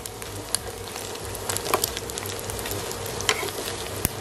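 Salted turnip and egg stir-fry in a hot pan with a steady, close crackling sizzle, broken by occasional sharp taps and scrapes of the spatula.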